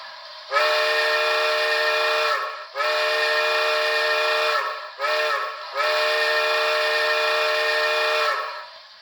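A loud steam whistle from an Athearn 2-6-0 Mogul model locomotive's sound system blows in three long blasts with a brief chirp between, steady and shrill, with no other sounds around it.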